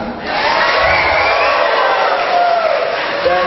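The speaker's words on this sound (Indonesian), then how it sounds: "tepuk tangan" Crowd noise at a 2015 regent candidate debate in Bungo Regency: a loud, sustained mass of cheering, whooping and voices fills the hall for several seconds, close and dense throughout.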